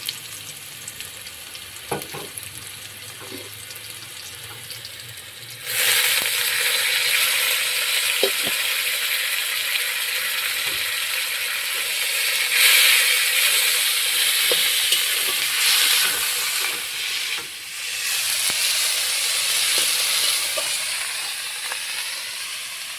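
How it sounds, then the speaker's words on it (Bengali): Black cumin, chili and garlic fry quietly in a pan, then a loud, sustained sizzle and hiss bursts up as ash gourd leaves are added and stirred, with occasional clinks from the utensil. "কালো জিরে লঙ্কা আর রসুন ভাজা ভাজা করে নিলাম এখন পাতাগুলোকে এখানে দিয়ে দেবো"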